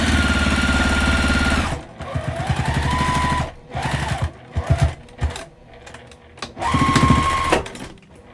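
Sewing machine stitching a fabric Christmas tree: a loud continuous motor whir in long bursts, broken by short stops and a few brief stitching runs, with no talking.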